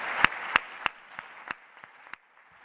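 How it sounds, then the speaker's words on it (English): A small conference audience at the MIDL 2019 closing ceremony gives a sparse round of applause: a handful of sharp, distinct claps, loudest at first, thinning out and fading within a few seconds. "Let's applaud them nonetheless."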